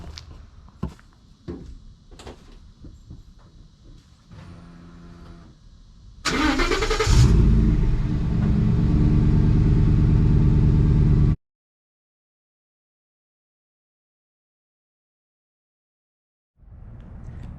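A truck engine, from a Cobra GT500 owner's garage, cranks and catches at once, then roars into a loud, sustained rev and idle for about five seconds before cutting off abruptly to silence. Light handling clatter comes before it.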